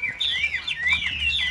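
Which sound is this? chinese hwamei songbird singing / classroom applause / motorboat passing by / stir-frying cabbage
chinese hwamei songbird singing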